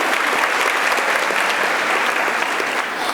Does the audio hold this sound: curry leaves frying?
no